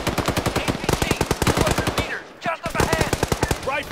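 Rapid automatic gunfire in the video game Arma 3 with a Cold War Assault mod, a fast loud burst, a brief pause, then another sustained burst.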